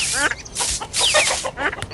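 Close, busy chicken clucking and squawking fills the whole moment, loud and continuous, with overlapping calls.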